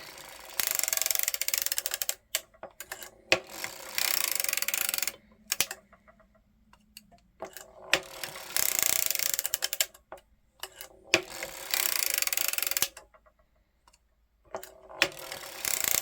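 A circular sock knitting machine cranked by hand while knitting a sock toe, giving bursts of rapid mechanical clattering and ratcheting separated by short quiet pauses, close and fairly loud with no talking.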